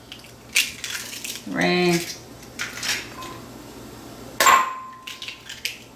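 Eggs cracked one after another, four in all, give a couple of sharp, brief cracking knocks spaced apart, with a voice counting in between.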